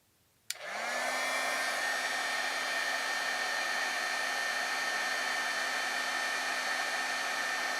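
A heat tool switches on with a click and blows a steady, loud whooshing roar that holds for several seconds while it heats foundry wax on a card, with a faint constant whine.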